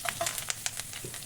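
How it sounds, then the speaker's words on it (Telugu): Dried red chillies and curry leaves tempering in hot oil, a short burst of steady sizzling crackle with a few sharp pops, close and moderately loud, no talking. "పోపు బాగా వేగాలండి"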